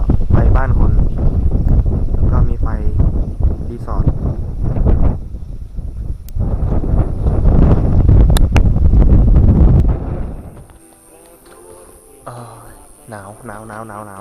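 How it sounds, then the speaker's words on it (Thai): Strong wind buffets the microphone on a Grand Filano scooter ride through the mountains, a loud rumbling roar for most of the span that drops away near the end, where quieter background sounds follow. "ลมแรงมากเลยฮะ"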